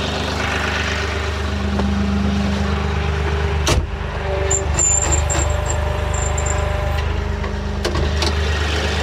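Articulated homestead tractor engine idling steadily with a low, continuous hum, close by, with a brief clunk near the middle and faint high squeaks as the machine steers.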